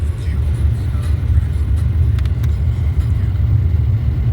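A car driving at night on a dark mountain road toward Gulmarg, with a steady low engine and road rumble throughout, close and continuous, with faint brief clicks over it.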